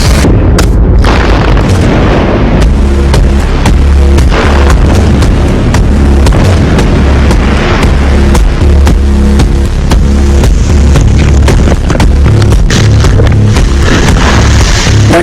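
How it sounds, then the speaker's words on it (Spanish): Rock blasting in a large copper mine: a loud, sustained explosion with crackling bursts and deep rumbling that fills the whole stretch, with overlapping detonations rolling on for many seconds at close range. "La explosión es genial."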